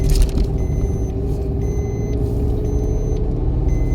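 A car engine held under steady acceleration during a driving lesson, a continuous low rumble with faint periodic beeping, close and constant without talk.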